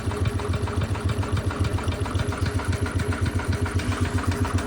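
An old 1977 Winnebago motorhome engine runs at a rough, lumpy idle close by, its low pulsing putter repeating steadily and loudly without any talk.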